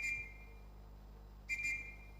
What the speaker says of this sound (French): Titi, c'est l'appel, ça veut dire venez.